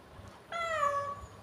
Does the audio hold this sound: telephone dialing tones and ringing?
no